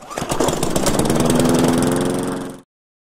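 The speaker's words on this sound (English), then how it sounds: "or the lawnmower." A lawn mower engine runs loud and close, with a rough, pulsing putter that holds steady for a couple of seconds and then cuts off abruptly.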